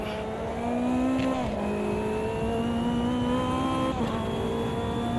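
Supercharged race car engine in the AMS2 racing game, a steady high-pitched drone held close and loud throughout, its pitch dipping and climbing slightly with throttle changes around the second and fourth seconds.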